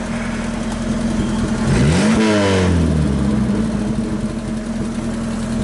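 A Chevrolet Opala engine idles at night, then revs up sharply around the middle and falls back toward idle, with a steady low rumble throughout and no talking.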